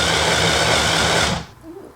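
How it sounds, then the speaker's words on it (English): A small handheld food processor blitzes soaked dates into a paste, giving a loud, close, steady motor whir that cuts out abruptly after about a second and a half. "put them into this little handheld food processor and blitz it"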